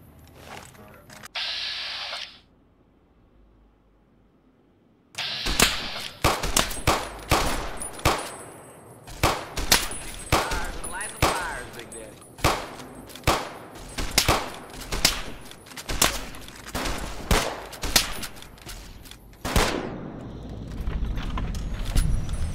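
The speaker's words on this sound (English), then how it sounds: "Hear gunfire." Gunfire in the modded video game Fallout New Vegas: a rapid string of sharp, loud shots in irregular bursts after a quiet stretch, with softer shots and background rumble around them.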